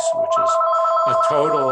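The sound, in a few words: mobile phone ringing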